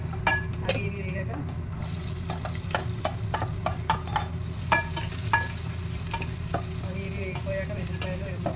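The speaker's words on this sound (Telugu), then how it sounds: "ఎల్లిపాయలు, జీలకర్ర, ఆవాలు, మెంతులు వేసి వేగిపోయాక ఎల్లిపాయలు కొంచెం వేసుకొని అవి ఇవి వేగాక" Garlic, cumin, mustard seeds and fenugreek seeds fry in a pan, a continuous crackling sizzle broken by frequent sharp spatula scrapes and taps against the pan.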